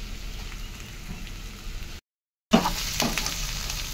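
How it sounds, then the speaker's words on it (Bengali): Ginger and garlic hit a pan of frying onions, making a continuous close sizzle that cuts out briefly, then returns with a sharp burst of spattering. "এরপর দিচ্ছি আদা রসুন।"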